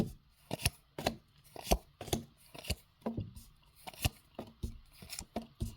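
Tarot cards are shuffled and pulled in a quiet room, producing a rhythmic series of soft, close slaps and riffles spaced about half a second apart.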